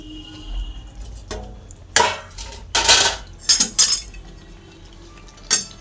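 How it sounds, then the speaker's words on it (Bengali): Chicken gravy curry tipped from a cooking pot into a serving dish: a spoon scrapes and knocks against the metal, giving several sharp clinks and brief scraping bursts between quieter gaps. "আমি এবারে তরকারিটা নামিয়ে নিয়ে তরকারিটা আমি এই ডিশে করে ঢেলে নেব।"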